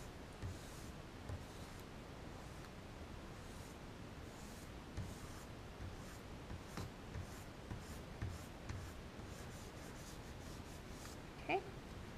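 Pastel rubs across paper in soft, faint, scratchy strokes, a continuous quiet hiss broken by a few light taps and a brief sharper scrape near the end.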